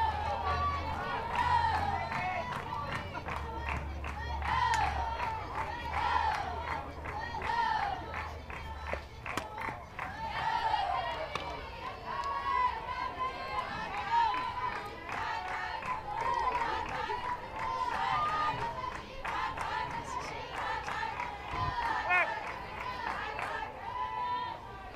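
Spectators packing the bleachers at an Oklahoma State college softball game make a steady murmur of chatter and cheering. A commentator talks over the crowd throughout.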